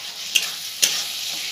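Masala for tadka dal sizzles steadily in a hot pan, with two brief scraping strokes of a spoon stirring it.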